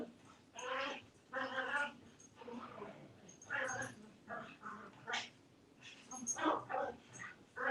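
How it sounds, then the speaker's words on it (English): Several dogs bark and whine excitedly in repeated bursts, close by and fairly faint, with a voice talking in between. "The dogs are going crazy."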